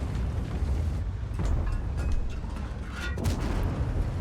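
A heavy cannon blast from an Object 260 tank in World of Tanks booms out against a constant low rumble of engine noise, with a few sharper crackling impacts following.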